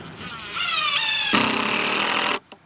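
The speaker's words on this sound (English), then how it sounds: "And we're gonna drill it." A power drill whines and revs for about two seconds, its pitch rising then steadying under heavier load, before stopping abruptly.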